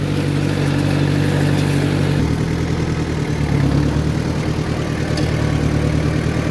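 A Mitsubishi MT 2201 compact tractor runs loud and close at a steady, even rumble while haymaking, with a slight shift in engine tone partway through and no talk.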